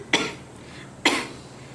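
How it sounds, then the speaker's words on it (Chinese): An elderly mother coughs indoors, two short, sharp, close coughs about a second apart. "你怎么还在咳嗽？"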